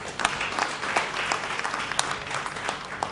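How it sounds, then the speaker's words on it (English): Audience applauding after a student music performance, a dense wash of steady hand claps from a sizeable crowd, moderately loud and sustained for the whole stretch. "A huge round of applause, please."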